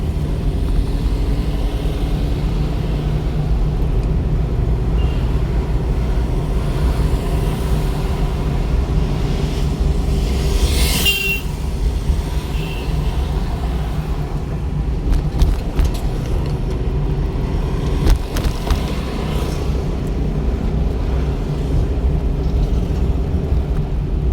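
A car on the road during a driving lesson gives off a constant low engine rumble and road noise that holds steady throughout, with a brief louder whoosh near the middle.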